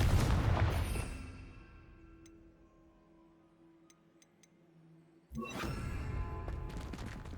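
Confringo blasting spell explosion in Hogwarts Legacy, a loud broadband burst that decays over about a second, then quiet ambience with faint ticks before a second loud blast erupts and sustains.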